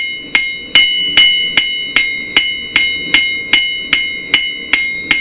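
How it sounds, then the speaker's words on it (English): Steady hammer blows ring out on a forged knife's bevels on an anvil, a dozen bright clanging strikes from a flat, square-faced hammer at an even, unhurried rhythm, close and loud. "hammering bevels, it's nicer to have a flat and a square hammer"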